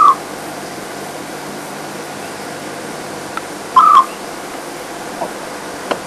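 Scops owl calling at night in African bush near a jackalberry tree, giving two short, soft whistled notes several seconds apart over a quiet, steady background hiss.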